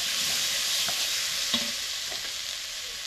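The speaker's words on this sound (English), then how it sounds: "we're going to add our potatoes to this" Two potatoes drop into a pot of smoky bean and barley soup with roasted tomatoes, giving a few soft, close thuds and splashes over a steady simmering hiss.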